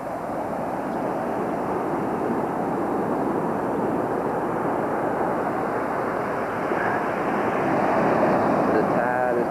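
Waves of an incoming tide wash steadily onto the shore, a continuous broad rushing that swells slightly toward the end, mixed with wind buffeting the microphone.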